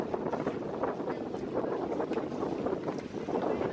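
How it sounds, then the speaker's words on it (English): A sailboat under raised sails out on the open sea: steady rushing wind and water noise with constant hiss and a low rumble, close and fairly loud, with no distinct voices. "On the open seas, we're sailing again. Sails are up and lofting"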